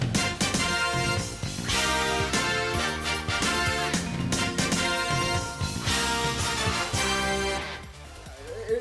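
Stage ending jingle from the US version of Sonic CD, a bold brassy fanfare with punchy drums that plays loud and alone for about eight seconds before cutting off.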